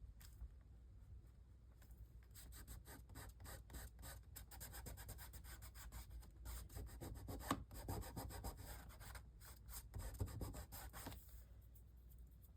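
Art medium being rubbed and smudged onto a journal page, a close, steady scratchy rubbing with quick back-and-forth strokes, soft and continuous with no talking.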